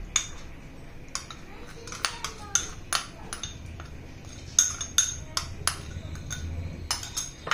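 A vegetable salad dressed and tossed in a bowl, with repeated sharp clinks and taps of a utensil against the dish and soft rustling of the greens between strikes, close and irregular.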